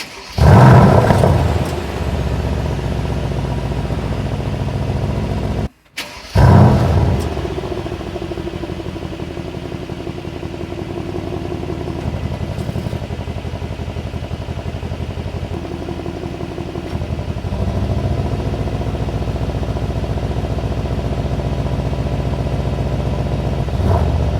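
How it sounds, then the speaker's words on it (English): A 2020 Mercedes-AMG C63 S facelift with a V8 engine starts with a loud burst of cranking and revving, cuts briefly, fires again, then settles into a deep steady idle with later mild rises in revs. "So now let's start the car and hear this magnificent sound."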